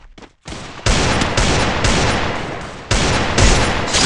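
Loud, close bursts of sustained automatic gunfire from the Free Fire Max video game, several long volleys with brief pauses between them, alone without talk.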